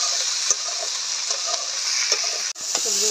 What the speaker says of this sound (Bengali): সবজিগুলো আমি ভালো করে ভাজা ভাজা করে দেবো।